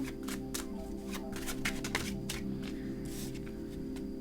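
Tarot cards being shuffled by hand: a quick run of crisp, riffling card flicks close up, continuing steadily over a soft, constant background hum with no talking.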